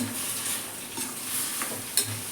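Taro leaves cooked with a hilsa fish head sizzle in a pan while a utensil stirs them, a soft frying hiss broken by a few light scrapes and clinks of metal on the pan.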